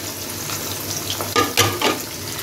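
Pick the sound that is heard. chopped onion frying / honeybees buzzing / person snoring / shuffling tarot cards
chopped onion frying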